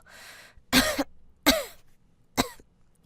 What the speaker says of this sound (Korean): 내가 기침이 심해서